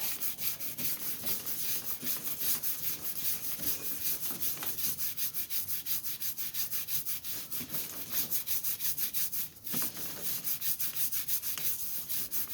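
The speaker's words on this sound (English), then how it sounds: "I want to get all sides of this chain scrubbed up and cleaned" A three-headed brush scrubs a Honda CBR500R motorcycle chain in fast, steady back-and-forth strokes, a close, continuous rasping rub with a brief pause partway through and no speech.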